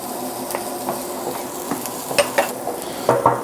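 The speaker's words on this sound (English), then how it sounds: "We're going to add some garlic." Garlic hitting a hot pan as the base for lobster bisque, a close continuous sizzle with repeated scraping stirs and light clinks of a utensil against the pan.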